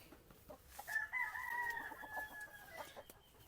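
A rooster crows once, fairly faint and distant, on a chicken breeding farm with many tethered roosters, over low farmyard background noise.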